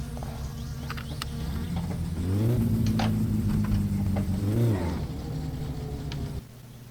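Satsuma car in My Summer Car idling steadily, then revving up loudly for a couple of seconds and settling back to a steady run before the engine note drops away near the end.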